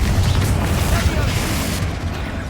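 A heavy, rumbling blast from a Confringo fire spell in Hogwarts Legacy fills the clip with dense low booms, loud and close, with a voice faintly mixed in.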